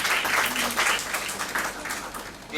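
An audience at a talk at Miranda House claps together in a modest burst of applause, fairly close and moderately loud, rising in a few uneven swells before thinning slightly toward the end.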